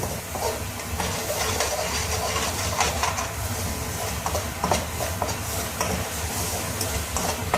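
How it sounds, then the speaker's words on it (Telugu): Mixed vegetables with kada masala and kasuri methi fry in oil, giving a dense continuous sizzle with low rumble and occasional stirring scrapes throughout. "చూడండి, బాగా ఆయిల్లో వేగనివ్వాలి."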